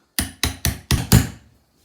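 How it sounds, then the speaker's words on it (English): Five sharp, evenly spaced hammer blows drive a pointed metal spike into the end of a smooth, straight wooden dowel, each strike ringing briefly, the last slightly louder and longer, close and without talk. "I'm going to put it on the floor and hammer it in really hard"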